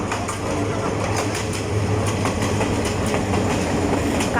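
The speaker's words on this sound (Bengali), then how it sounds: "এখানে একটা রেল চলে আসছে, যেটা ডাইরেক্ট ট্রেন আর কি" A direct passenger train pulls into Sripur railway station, its carriages rolling past close by with steady clickety-clack over the rails and a loud, continuous rumble that holds throughout.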